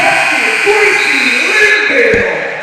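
A loud, sustained electronic buzzer drones over crowd noise and talk in a gym during a girls' basketball game, tapering off near the end.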